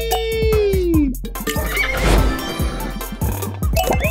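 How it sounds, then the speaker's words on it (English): A flying donkey in the Crossy Road Castle video game lets out a loud braying whinny, mixed with rapid game sound effects, thumps and clattering hits. "Oh, flying donkey!"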